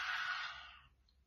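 A person imitates a lion's roar as a long whispered exhale. The single airy, breathy rush starts strong and fades away over about a second, with no voiced tone.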